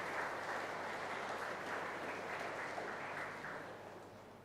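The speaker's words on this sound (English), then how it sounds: "Why don't you give a clap?" A graduation day audience at an engineering college claps in a steady, moderately distant wash that gently fades toward the end, with no voices over it.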